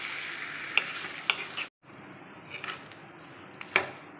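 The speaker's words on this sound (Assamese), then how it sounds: "দৈখিনি দি ভালদৰে মিক্স কৰিব লাগিব" Mutton being stirred in a pan just after curd (yogurt) is added, giving a soft steady sizzle with a few sharp scraping clicks of the spoon, close and alone.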